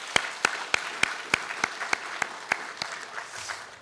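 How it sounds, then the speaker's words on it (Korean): A church congregation claps to encourage Sunday school teachers at a teacher dedication service: a steady, evenly spaced rhythm of sharp unison claps, about three per second, fairly close and loud, with a faint murmur toward the end. "우리 격려하는 박수로 교사들 격려하도록 하겠습니다"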